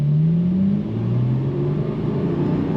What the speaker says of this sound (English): So you have the sound of that flat 6 with all of that great power.